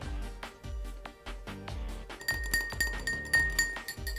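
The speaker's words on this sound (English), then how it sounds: "And I will stir in some honey." A spoon stirs honey into lukewarm water in a glass for yeast dough, clinking against the glass in a steady rhythm of sharp, close taps with a faint ringing tone.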